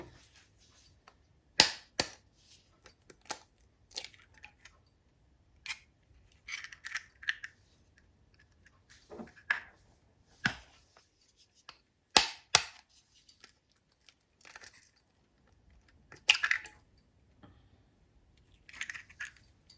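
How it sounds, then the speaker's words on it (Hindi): Eggs going into a pan for egg burgers: quiet, scattered sharp clicks and cracks spaced irregularly over several seconds, with near silence in between and no talking. "अब जी एक पैन लिया, अब उसमें डालते हैं हम अंडे।"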